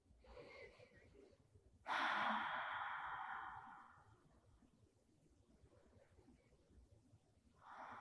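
Slow, deep breathing while holding a yoga balance pose with eyes closed: a long audible exhale like a soft sigh, framed by quieter breaths before and after, close and in near silence.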